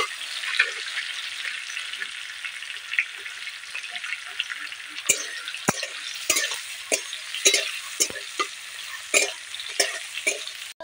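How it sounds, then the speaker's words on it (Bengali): Ridge gourd frying in a pan, a steady close sizzle with scattered sharp stirring scrapes and clicks running throughout, no talk. "ঝিঙেটা আমি ভেজে নিচ্ছি।"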